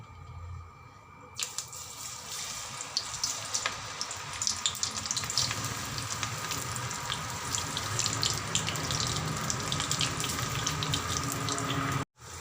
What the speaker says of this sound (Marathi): तेल गरम झालेलं आहे आता हे भजे टाकून घेते यामध्ये